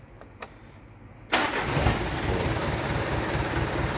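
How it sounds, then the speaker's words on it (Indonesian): A car engine with a leaking exhaust cranks and catches after a few faint clicks, then settles into a loud, steady, rough running roar close by. "Knalpotnya kayak bocor knalpotnya."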